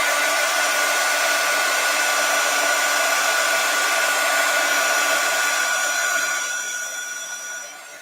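A hair dryer blows loudly and steadily up close, drying a craft project, then its roar dips and fades in the last couple of seconds.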